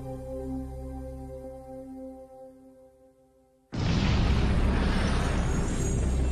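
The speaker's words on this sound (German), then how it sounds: "Aus dem Big Bang, einem winzig kleinen Krümel, explodierte das Universum." Big Bang explosion sound effect: a sustained musical drone fades away, then a sudden massive blast bursts in and rolls on as a loud, continuous roar.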